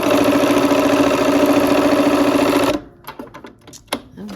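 A sewing machine stitching quilt rows together runs loud and close in a fast, even mechanical chatter for nearly three seconds, then stops abruptly, leaving a few soft handling clicks and rustles.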